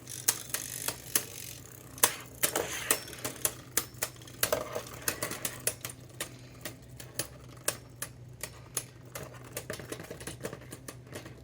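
Beyblade tops spinning and clashing in a stadium, a quiet steady whir broken by a long run of sharp ticking impacts, some clustered and some spaced, with no voices over it.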